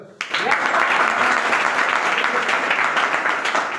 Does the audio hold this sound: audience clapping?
yes